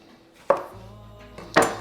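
Two crisp knife strokes through a hothouse cucumber on a cutting board, each a sharp close chop with a short tail, spaced about a second apart with a low hum between.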